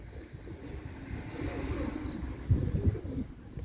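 A young Mardin pigeon coos softly and low over a steady background hum, with the cooing swelling a little louder near the end.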